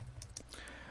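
A few quick keystrokes on a computer keyboard while entering a command-line program, soft close clicks lasting about a second over a faint room hum.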